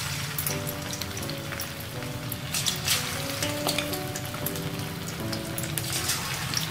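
Chicken pieces deep frying in oil on a medium flame for restaurant-style chicken starters, a dense, even sizzle that crackles steadily throughout, with faint music in the background.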